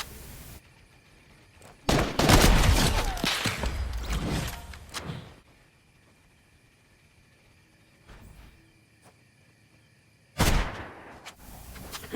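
Sudden Fortnite gunfire erupts in a loud, crackling volley lasting a few seconds, then drops to near quiet before another sharp burst of shots near the end.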